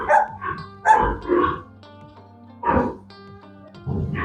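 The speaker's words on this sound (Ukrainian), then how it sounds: "собака гавка" A farm dog barks in several sharp bursts, close by, near a railway crossing, with short pauses between barks against a low steady hum.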